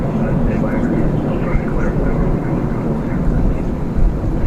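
An airplane at DFW Airport, recorded while plane spotting, gives a steady, loud broadband roar that holds unchanged throughout, with a voice talking faintly underneath.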